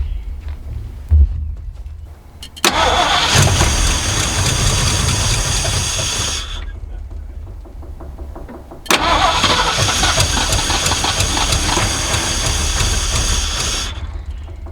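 A 1979 Ford F150 with a modified 351 V8, primed with starting fluid, cranks and fires into a loud running idle, dies off, then cranks and catches again for another sustained run, close to the microphone.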